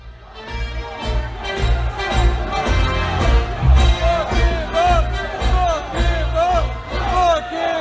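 Concert crowd at a show roaring and cheering in a loud sustained wash, with whoops rising over the babble and an amplified voice speaking above the noise.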